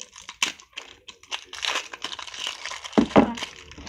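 Crinkly plastic packaging on a 99-cent-store slime container is crushed and peeled open close up, in irregular bursts of crackling and crumpling with a louder crunch near the end, no talking.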